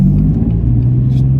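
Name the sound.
BMW M4 engine rumbling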